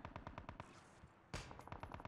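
Rapid automatic gunfire from the mobile game Call of Duty Mobile, short crisp bursts of evenly spaced shots with a brief pause and a sharp louder blast before the rattling resumes.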